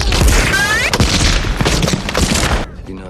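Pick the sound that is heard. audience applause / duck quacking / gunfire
gunfire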